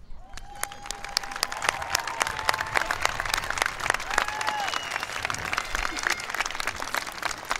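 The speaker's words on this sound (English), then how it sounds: "I would like to applaud you myself" A high school graduation crowd at Petaluma applauds its teaching staff: sustained, fairly loud clapping with distinct individual claps standing out, mixed with some cheering and a brief voice rising over the noise.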